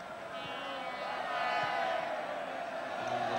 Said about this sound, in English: the Mexicans in the crowd giving a few oles